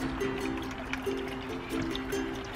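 Water trickles and splashes steadily in a homemade bee fountain, a soft continuous dribbling with a faint tonal hum underneath, close and fairly quiet with no talk.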